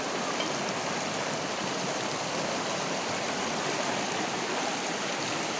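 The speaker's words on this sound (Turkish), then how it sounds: "şu şelalerin sesini" Waterfalls in a countryside picnic spot near Suşehri, Sivas, pour in a steady, dense broadband rush that holds evenly loud and close throughout, with no voices.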